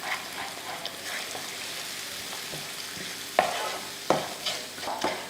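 Eggs with tomato masala are stirred and fried in a pan: a soft, continuous sizzle broken by several sharp spoon scrapes against the pan toward the end.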